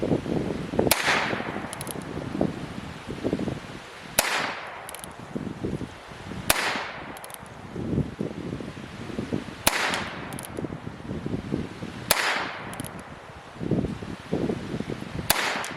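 Heritage Rough Rider revolver fired at short range outdoors, five sharp cracking shots spaced a few seconds apart, each loud and close with a quick decay, over steady background noise.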